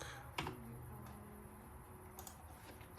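Soft typing on a computer keyboard while working in CAD software, just a few scattered key clicks and taps in a quiet room, faint and close.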